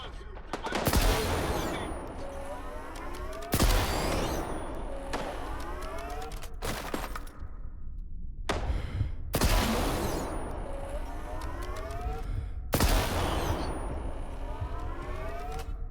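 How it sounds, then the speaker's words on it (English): A revolver in the video game S.T.A.L.K.E.R. 2: Heart of Chornobyl fires from the hip, giving about six loud, sharp shots spaced a few seconds apart, each followed by a long ringing echo. "What is with the revolver? I can't hip fire for shit with it anymore."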